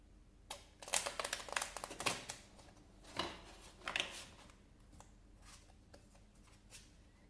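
Quiet, crisp riffling and flicking of stiff plastic playing cards in several quick bursts, with softer shuffling clicks trailing off afterward.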